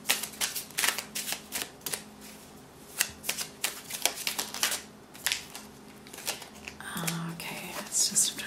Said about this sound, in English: I feel like I need to shuffle the cards more.